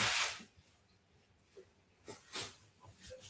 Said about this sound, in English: tickling my nose made me sneeze